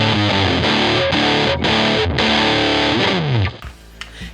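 Electric guitar driven through a Big Muff distortion pedal, thick sustained fuzzy chords ringing loud and steady, with a few brief breaks and a sliding chord before cutting out into quiet.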